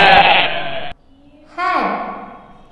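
Goat bleating, one clear wavering bleat that rises then falls, sounding close and loud after a short pause, which follows a burst of sung or spoken voice.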